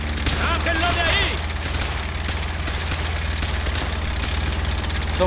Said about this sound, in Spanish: ¡Ametralladora enemiga!